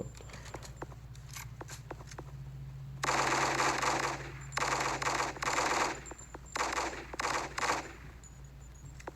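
Automatic gunfire in the Special Soldier online shooter, with loud sustained bursts of rapid machine-gun fire broken by short pauses and scattered single shots over a low steady game hum.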